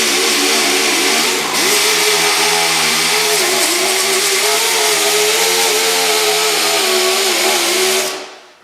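A loud, continuous power sander grinds with a coarse 80-grit disc across a plastic Toyota Prius rear bumper cover, its whine wavering slightly as pressure shifts, then winding down at the end.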